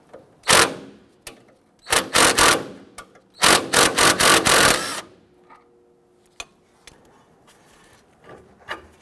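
Bursts of rapid mechanical rattling from an 18mm socket on a ratchet or impact tool working a bolt on a Nissan Frontier front shock assembly, three loud close bursts followed by a few quieter clicks and knocks.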